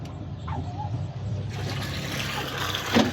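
Water from a motor-driven pump, controlled by a GSM mobile starter, gushes and splashes steadily and close by, with a brief voice heard early on.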